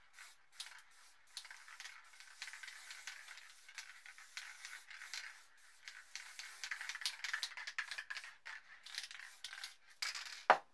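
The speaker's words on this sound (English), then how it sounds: "With the black, I'm just going to spray a bit of black here." A spray paint can releases black paint in repeated short hissing bursts, faint and close, with quiet gaps between sprays and a sharp clack near the end.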